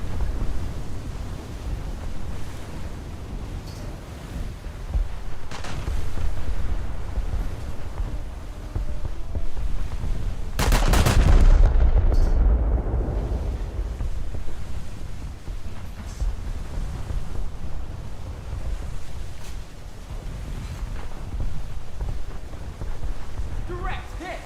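Naval gunfire in a warship video game: a sudden heavy boom stands out midway over a constant roaring wash of sea and battle noise, with someone talking throughout.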